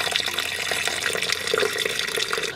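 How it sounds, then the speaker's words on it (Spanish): Water runs steadily from a tap into a sink as reusable makeup remover pads are put in to soak, a close, continuous splashing pour with no talking. "Vamos entonces a ponerlos en agua."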